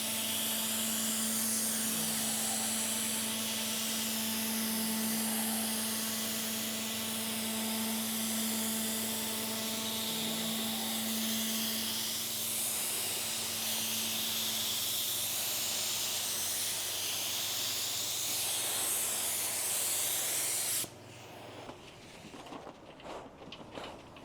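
A spray gun lays clear coat paint on a van with a loud, steady, continuous hiss and an underlying tonal hum that runs for about twenty seconds before cutting off abruptly, leaving faint background noise.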